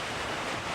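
Ocean surf rolls against the windy coast at Essaouira, Morocco, as a steady, dense wash of breaking waves. Wind buffeting the microphone blends in throughout the brief stretch, with no voices.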